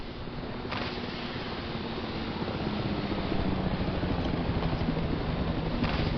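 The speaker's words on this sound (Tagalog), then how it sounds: "Gusto natin itong flare. Tawagin natin helicopter." A rescue helicopter called in with a flare in the video game PEAK drones with a steady rotor whir and broadband engine wash, growing slightly louder over the stretch with no speech.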